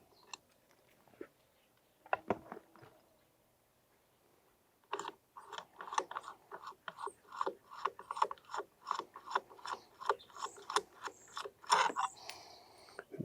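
A half-inch socket ratchet loosening motorcycle bolts: a few scattered clicks, then from about five seconds a long run of quick, close metallic ratchet clicks in steady bursts, fairly loud and with no voices.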